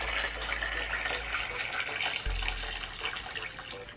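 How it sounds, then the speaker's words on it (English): Boiled water is poured into a hair dye bowl in a faint, continuous trickling stream over a low background hum. "So I'm about to put that in here now. Always pour the water away from you."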